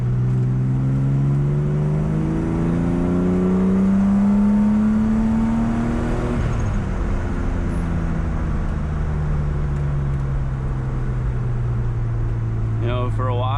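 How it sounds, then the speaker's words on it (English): A car drives along the road, a loud steady interior engine drone whose pitch climbs as it speeds up, then drops and settles into a cruising hum, with tire and road noise throughout. "just go out for a drive"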